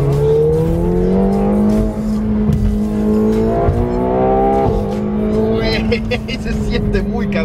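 McLaren 720S sports car accelerating hard through Mexico City streets, its engine note climbing through the gears with loud, close revving while people talk over it.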